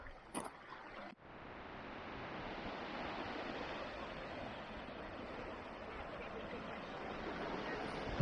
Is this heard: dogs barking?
no